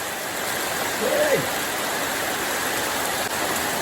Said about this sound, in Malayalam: കുറച്ച് നല്ല മഴ ഉണ്ട് നല്ല മഴ നല്ല മഴ